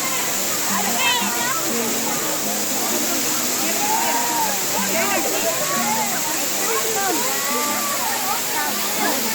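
Panchalinga waterfall in the Thirumoorthi hills roars as a steady broadband rush of falling water, with chattering voices and children faintly audible through it.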